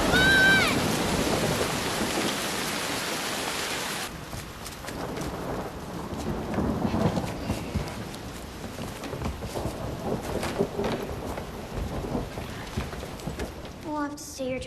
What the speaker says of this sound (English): We'll have to stay here till the storm ends.